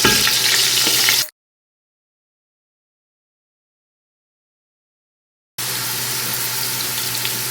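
Onions fry in oil for chicken biryani with a loud, steady sizzle that cuts out to complete silence for several seconds, then resumes just as strongly.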